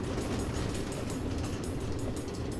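In the Nether of Minecraft Story Mode, a train runs along automated tracks, a steady rumbling rattle with continuous rail clatter and nothing spoken.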